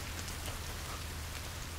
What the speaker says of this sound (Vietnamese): Lại mưa rồi.